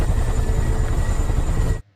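A helicopter flying during a disaster rescue, its steady loud rotor thrum and engine roar filling nearly two seconds before cutting off abruptly.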